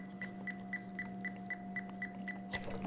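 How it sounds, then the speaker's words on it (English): A Fluke 88V multimeter beeping in a fast, regular series of short tones, about four per second, close and fairly quiet over a steady hum, ending with a brief clatter. "it beeps because it doesn't like."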